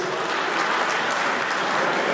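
Wedding guests clap together in a dense, steady burst of applause that stays even and close for a couple of seconds, with no voices standing out.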